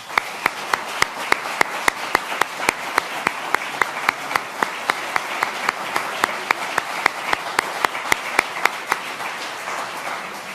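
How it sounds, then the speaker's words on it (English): Audience applause at a tourism campaign launch in Newfoundland and Labrador: sharp, evenly spaced handclaps over a steady wash of clapping that holds at a moderate level for about ten seconds. "Some are here today. Please give them a round of applause."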